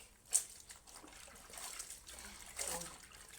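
Hot water poured into a basin of cold washing water for hand-washing clothes, a faint trickling splash with a brief louder spill near the start and another near the end.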